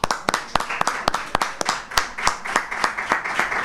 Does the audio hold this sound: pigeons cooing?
no